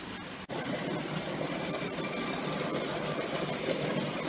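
A Hornby Dublo model train on a home layout trundles through a station, a steady close mechanical whirr and hum of the motor and wheels that holds even throughout, with no talking.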